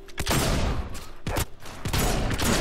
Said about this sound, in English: Some audio going on with the gun there, that's weird